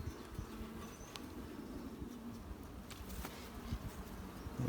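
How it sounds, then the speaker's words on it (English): Bees buzzing around the busy entrance of a hive box, a faint continuous hum with a few nearer insects passing, no voices. "We got some bees."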